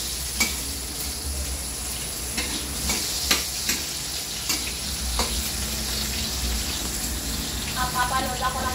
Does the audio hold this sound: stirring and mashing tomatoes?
yes